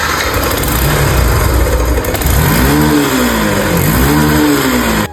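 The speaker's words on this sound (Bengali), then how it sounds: "দেখেন তো ভাই গাড়িটা কি আছে, ইঞ্জিনে খালি শব্দ করে।" A car engine with a blown piston runs loudly and close, then revs up and down twice in rising and falling sweeps.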